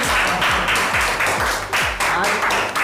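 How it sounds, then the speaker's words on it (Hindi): Crowd of people clapping in applause at a public gathering honouring health workers with a shower of flowers, a steady, dense patter of many hands with rhythmic low thumps underneath throughout. "मारिए ताली मारिए"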